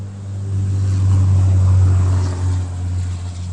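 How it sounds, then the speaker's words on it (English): A loud car passes nearby, a deep engine rumble swelling to a peak midway and then easing off, with no talk over it. "that car was very loud"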